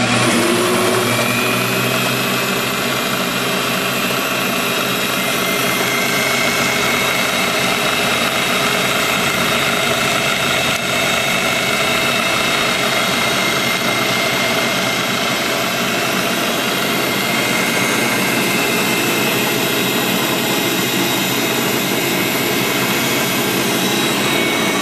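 A rebuilt South Bend drill press runs at its top speed, giving a loud, steady whirring drone with a broad hiss that holds unbroken and alone for the whole stretch.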